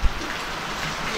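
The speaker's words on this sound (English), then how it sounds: "Hope the rain goes away." Rain falls near the Guatemala–Belize border as a steady, moderately loud hiss of drops pattering on surfaces, with a brief thump at the start and no voices.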